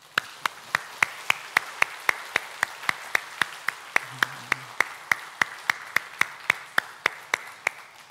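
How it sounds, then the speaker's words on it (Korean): A church congregation at a Sunday worship service at Sangdong Church claps together in a steady, even rhythm of about three sharp claps per second. The clapping goes on throughout with no talking over it. "감사하는 영광의 박수를 하나님께 올려드리면 좋을"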